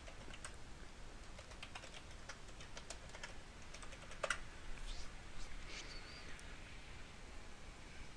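Quick bursts of keystrokes tap on a computer keyboard while a username and password are entered, with light close clicks followed by a brief pause and a few faint taps over a low steady hum.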